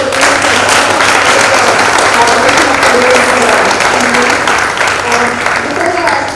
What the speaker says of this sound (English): Let's have a big round of applause for Mohit.